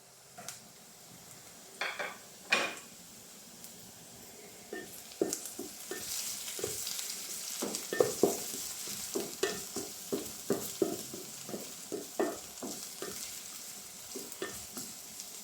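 Chopped garlic, ginger and green chilli frying in a pan for chicken Manchurian: a soft steady sizzle beneath frequent sharp clacks and scrapes of a spoon stirring against the metal, growing busier after the first few seconds, no speech.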